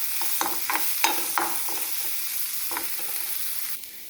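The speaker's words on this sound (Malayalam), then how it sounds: "ഇത് നല്ല ഒന്ന് വഴറ്റിയെടുക്കാം, ബ്രൗൺ കളർ വരെ" Masala mix sautéing in a pan as it browns for chicken cutlets, a steady close sizzle with repeated scraping stir strokes, no voices.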